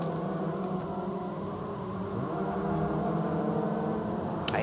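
Peugeot 208 race cars of the 208 Racing Cup pull out of the north chicane at Paul Ricard, their engines a steady, moderately distant drone with pitch shifting as they accelerate through the gears.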